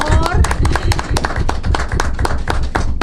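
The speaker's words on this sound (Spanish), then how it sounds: "Denle un aplauso" Dense applause from a crowd, a steady wash of many hands clapping at once, loud and sustained throughout.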